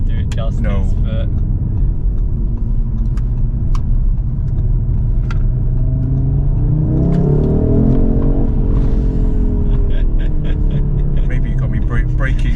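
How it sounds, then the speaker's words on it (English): A Volkswagen Golf R drives along a road, a loud steady engine and road rumble heard from inside the cabin with a rising surge midway, while people talk over it. "We'll do this route on your Golf R, see what it's like."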